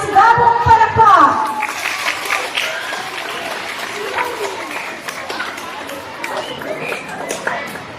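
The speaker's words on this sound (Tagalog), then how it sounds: "Para sa lubungin po natin sila ng masigabong palakpak." An audience at a poetry performance bursts into applause after a short spoken introduction, a dense patter of many hands continuing steadily with crowd chatter and scattered cheers mixed in.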